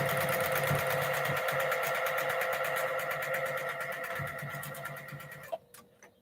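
A sewing machine stitches quilt blocks in a continuous chain, its needle hammering in a fast, steady rhythm close by, slowing and stopping near the end with a couple of sharp clicks.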